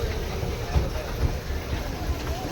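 A toy train ride at Nicco Park amusement park rumbles along with low thumps under a steady wash of crowd and outdoor noise, while voices talk nearby.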